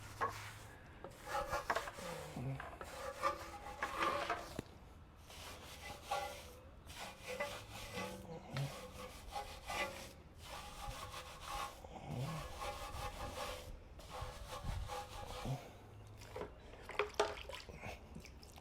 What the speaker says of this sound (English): So we'll take our Easy Detailer wheel brush, get up there and get the barrels all cleaned out.